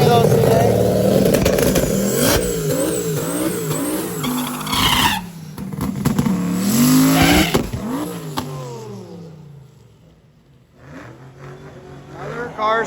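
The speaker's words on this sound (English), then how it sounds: "Another car spinning." A race car spinning out on a rough track surface, engine revving and wavering in pitch with tire noise, loud and close, dropping away briefly before picking up again, with talk mixed in.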